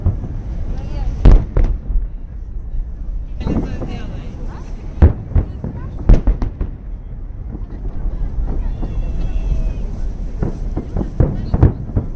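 Fireworks salute display in St. Petersburg: sharp booms and cracks burst out at irregular intervals, some loud and close, others fainter, over a steady outdoor rumble with wind noise.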